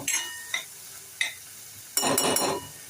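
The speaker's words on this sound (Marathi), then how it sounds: "आता इथे वाटण परतून घेतलंय।" Masala paste of onion, fresh coconut and ginger-garlic sautéed in a pan, heard as a few sharp spatula scrapes and clinks followed by a brief burst of sizzling stirring, no talk.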